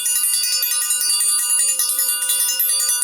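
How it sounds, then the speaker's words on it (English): Bright bell rung rapidly and repeatedly, a dense run of sharp metallic rings that keeps ringing loud and close for the whole stretch, with no voices over it. "we're ringing the bell for that"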